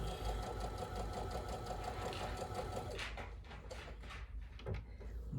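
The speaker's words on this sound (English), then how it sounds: "Watch me sew them" A domestic sewing machine runs steadily, its needle stitching with a fast even rattle, then slows into a few uneven bursts and clunks; close and fairly quiet, with no talking.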